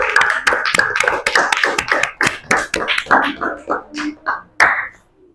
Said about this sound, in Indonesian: tepuk tangannya buat Mutiara